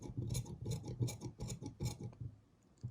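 Scissors snip through fabric while a bespoke British-style jacket is cut out, a quick run of crisp, evenly spaced cuts close by that slows and stops near the end.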